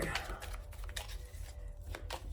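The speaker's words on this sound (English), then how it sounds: "I'm actually shuffling the cards" Quick, papery riffling clicks of playing cards being shuffled, soft and close, in a quiet room with a low background hum.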